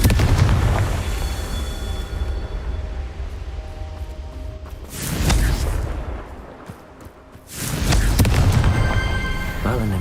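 A fiery Confringo spell blast from the video game Hogwarts Legacy. Dense game noise carries a loud booming burst in the middle and a second heavy surge near the end, both close and full.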